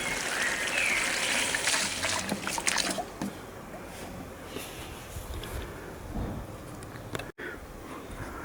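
Water pours and sloshes into a fence post hole, a steady splashing trickle for a few seconds that fades to quieter handling sounds.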